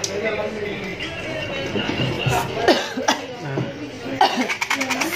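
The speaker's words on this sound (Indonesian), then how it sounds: "Emang kalau mau nyanyi suka batuk." A few short coughs break out amid chatter and light laughter, with voices talking throughout in a lively room.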